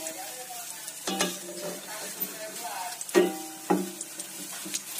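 Eggless potato donuts sizzle softly in hot oil, with a few sharper stirring and turning clinks and splashes scattered over the steady frying hiss.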